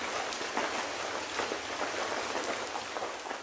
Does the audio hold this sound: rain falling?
yes